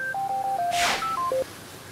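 Telephone keypad dialing in an Indonesian TV drama scene: a quick run of distinct DTMF beeps in steady sequence, interrupted midway by a short hissy burst, then a few more tones before fading to a quiet line.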